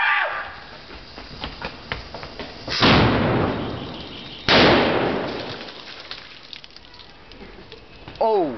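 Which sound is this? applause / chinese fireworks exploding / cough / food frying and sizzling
chinese fireworks exploding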